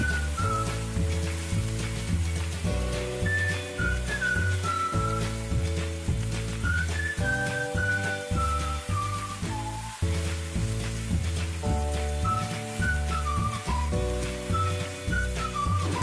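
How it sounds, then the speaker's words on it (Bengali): Marinated chicken frying in a pan for Chettinad curry, a steady soft sizzle running beneath louder melodic background music that carries on throughout. "চিকেনটাকে আমরা 3-4 মিনিট ভেজে নেব।"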